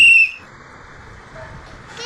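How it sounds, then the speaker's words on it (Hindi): A single shrill whistle blast, loud and close, sounds at the very start and cuts off quickly, leaving only faint room noise. "सीटी बजाएगा"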